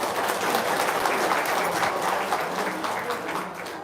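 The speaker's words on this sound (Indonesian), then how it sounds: "tepuk tangan dong." Sustained applause from a crowd, many hands clapping steadily and loudly for several seconds without pause.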